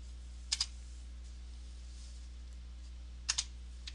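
Two quick pairs of computer keyboard clicks sound faintly as a ping command is typed, set against a low steady hum in a quiet room.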